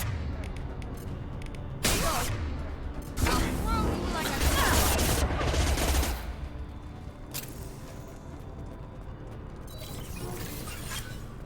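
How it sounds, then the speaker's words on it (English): Explosion in the Mass Effect 2 video game, a loud broadband blast bursting in around two seconds and rolling on for several seconds amid ongoing combat noise, with a second burst near seven seconds. "Oh, nice, the explosion killed it."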